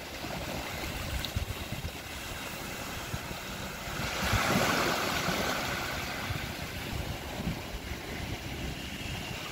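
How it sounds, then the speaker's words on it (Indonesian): A strong high-tide current at the Cengkrong estuary flows in a steady, rushing roar, swelling louder midway, with wind buffeting the microphone. "Air mengalir"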